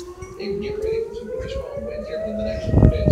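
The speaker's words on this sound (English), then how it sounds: "The sirens just got done about two minutes ago. Here they go again." A civil defense siren sounding a tornado warning wails with a slowly rising tone, loud and steady, while people talk and exclaim underneath.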